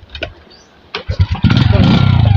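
A motorcycle engine cranks and catches, settling into a loud, steady low rumble after a few uneven bursts, with voices heard around it.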